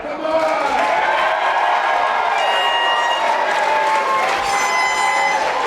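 A pro wrestling crowd in Reserve Mines cheers and applauds for a wrestler, a loud continuous roar of clapping and shouting with a voice talking over it.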